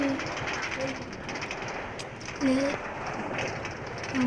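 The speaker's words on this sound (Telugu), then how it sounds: "ఆ ట్రైన్ ఇంకొకటి ఎక్కడ వెళ్తుంది చూడండి" A train rumbling past with a steady broad roar and faint rail clatter, somewhat distant, heard while people talk nearby.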